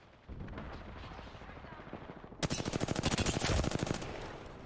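Rapid automatic gunfire rattles in the video game Apex Legends, at first muffled bursts, then a loud, fast, close stream of shots, with a commentator talking over it.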